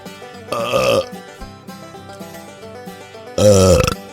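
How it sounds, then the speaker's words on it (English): Two loud, wet belches, the first near the start and the second near the end, stand out over quiet background music. "I ought to dole out these wet belches like Easter candy over here"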